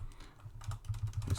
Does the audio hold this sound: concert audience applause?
no